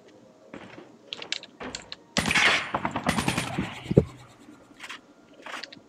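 Gunfire in Call of Duty Mobile battle royale: several rapid bursts of sharp shots ring out at moderate volume among scattered clicks, with faint voices now and then.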